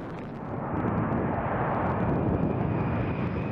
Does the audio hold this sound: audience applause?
no